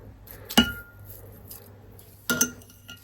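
A knife scraping crushed garlic pulp out of a container, giving two short, sharp metallic scrapes and clinks spaced about two seconds apart against a quiet background.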